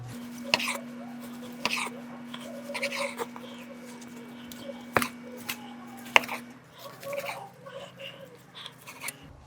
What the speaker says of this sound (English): let's go ahead and get this completely sliced up